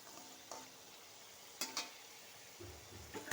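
Taro roots frying in a pan for a mung dal dish, a steady low sizzle with a few sharper clinks and stirring scrapes near the end, close by and fairly quiet.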